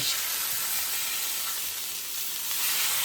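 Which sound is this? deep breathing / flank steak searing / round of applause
flank steak searing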